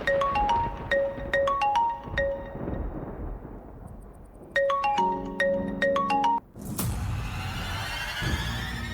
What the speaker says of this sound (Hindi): कौन फोन कर रहा है?